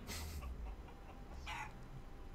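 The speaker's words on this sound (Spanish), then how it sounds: "Ya he encontrado la gallina." A chicken clucking in Counter-Strike on the Cobblestone map during an ESL One New York 2016 semifinal match, two short bursts of clucks over a dense background hum of game and crowd noise.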